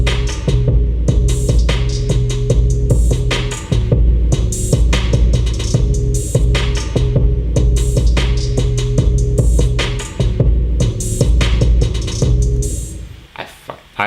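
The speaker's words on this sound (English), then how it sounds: "the whole beat together with the 808 sounds like this" Full trap beat built in Logic Pro X around a Splice sample, with deep booming 808 bass under steady hi-hats and open hats, dense and loud throughout, cutting off near the end.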